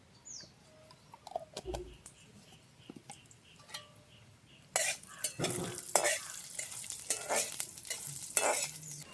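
Curry leaves and cumin hit hot oil in a village kitchen after a few scattered clicks and a bird call, bursting into loud crackling sizzle with spoon-stirring scrapes that carries on to the end.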